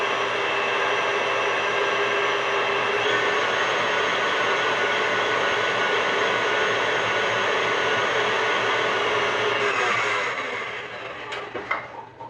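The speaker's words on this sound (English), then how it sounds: "I'm going to mix this on the mixer until it becomes very light and very pale yellow." An electric mixer beats eggs and sugar for a Queen of Sheba cake, a loud steady whirring drone that runs evenly, then winds down with a few clinks near the end.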